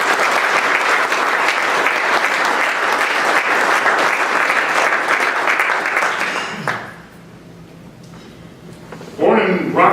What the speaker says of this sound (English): Your round of applause for Carrie.